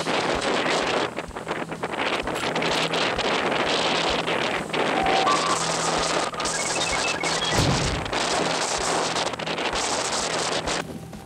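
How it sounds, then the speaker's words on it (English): Strong wind gusting outdoors during a long-range goat hunt, buffeting the microphone in a continuous loud roar with swells and dips, no voices heard. "Wind's picking up."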